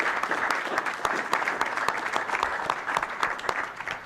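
A school board meeting audience claps for a student, steady close applause with distinct individual hand claps standing out through the full few seconds.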